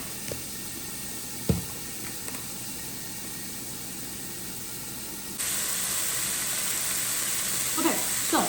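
Jumbo shrimp cook under a lid in a covered pan, giving a steady soft hiss that swells louder partway through, with a couple of light clinks and knocks near and in the background.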